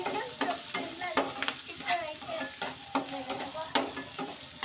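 Curry leaves hit a pan of frying soya chunks and are stirred through, giving a steady close sizzle broken by repeated scraping strokes of the spoon, with no voices.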